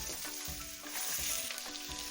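Onion pieces browning in a pot for cabbage soup, a soft continuous sizzle with small crackles and occasional stirring knocks, quiet and close.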